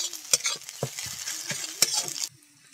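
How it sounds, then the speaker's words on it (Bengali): A spoon stirs potatoes and egg with cumin powder in a hot pan for a Nepali snack: scraping strokes and irregular metal knocks over a steady sizzle, close and fairly loud, dying away abruptly near the end. "এখন একটু জিরের গুঁড়ো দিয়ে দেব। ভালো করে মিশিয়ে নেব আলু আর ডিমটা।"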